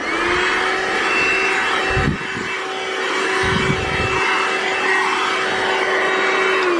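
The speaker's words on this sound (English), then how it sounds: "I think it did a fine job for a handheld vacuum." A battery-powered handheld vacuum cleaner runs steadily on a car's carpet, a constant close whine with a few brief bumps and shifts in tone as the nozzle moves.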